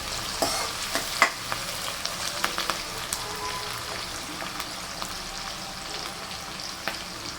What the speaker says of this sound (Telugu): ఇంకా ఉల్లిపాయలు వేగిపోయింది